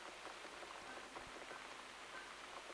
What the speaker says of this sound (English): Looks like we got the rain back.